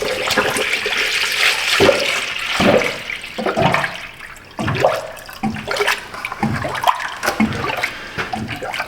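Air gurgling up through liquid in a bucket from a car's sealed cooling system, close and fairly loud irregular bubbling and glugging that continues throughout with no speech.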